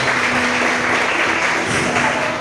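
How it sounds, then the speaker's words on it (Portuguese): A church congregation applauds steadily, a dense even wash of clapping filling the room at constant loudness with no speech over it. "A salva de palmas para Jesus."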